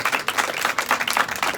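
Church congregation applauding, a short burst of dense, lively clapping from many hands at close range.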